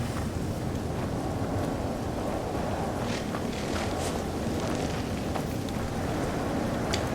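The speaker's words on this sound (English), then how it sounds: "Why can I feel the storm?" A storm in the video game No Man's Sky, steady roaring wind noise filling the scene with faint scattered crackles, continuous and unbroken; no distinct thunderclap stands out.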